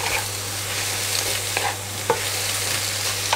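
Fresh spinach being stir-fried in a pan over moderate heat, a close steady sizzle with a couple of quick spatula scrapes, no speech over it.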